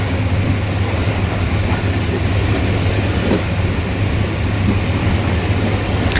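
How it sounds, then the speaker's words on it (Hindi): The Fareed Express runs at speed near Lahore Cantt, a loud, constant rumble of wheels on rails with a steady low hum and a faint high whine, heard from inside the train. "फ्रीज एक्सप्रेस एक दफ़ा अपनी स्पीड दोबारा पिक कर रही है"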